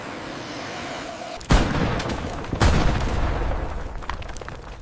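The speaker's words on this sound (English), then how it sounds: "The horizon disappears under explosions." Two heavy booming blasts strike about a second apart over a low continuous rumble, like distant explosions rolling across open ground, in a depiction of the World War II battle of Stalingrad.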